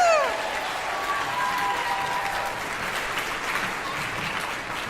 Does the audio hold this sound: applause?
yes